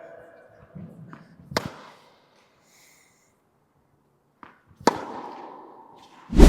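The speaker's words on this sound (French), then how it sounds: "Je ne sais pas si vous entendez le son de la balle." Tennis balls struck with a two-handed backhand: two sharp, crisp impacts a few seconds apart, each followed by a short ringing tail, with faint breathing between and a louder thump at the end.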